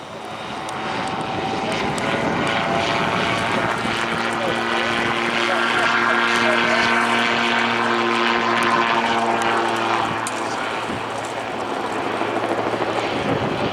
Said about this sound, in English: You're just using the energy stored in the disc, in the rotor blades, to pitch the aircraft down and bring it down slow and easy.